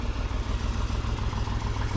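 A T-150G tractor engine, just started after being bogged in a swamp, runs at a steady, rumbling idle, close and continuous throughout with no talk.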